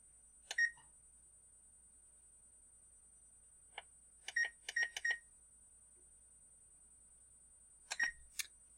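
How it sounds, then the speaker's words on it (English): Beeps from a kitchen timer being set for baking brownies: several short, close electronic beeps come in bursts, a single tone, then a quick cluster of four, then a final pair, over a quiet room. "So I'm going to set the timer."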